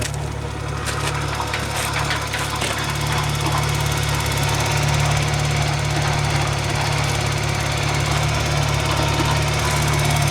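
A homemade band saw mill built from scrap has its motor brought up to speed, a loud steady engine drone running continuously, with faint knocks and clatter over it.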